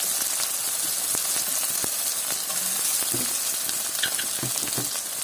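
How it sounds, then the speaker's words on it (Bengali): Onions fry in a pan for coconut chicken, a steady close sizzle and hiss with occasional light pops and soft stirring scrapes, no talking. "এটাতে কিন্তু পেঁয়াজটা একদম ব্রাউন করে ভাজতে হবে"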